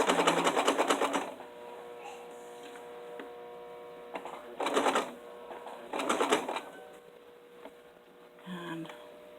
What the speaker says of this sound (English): I'll just turn fabric as I sew.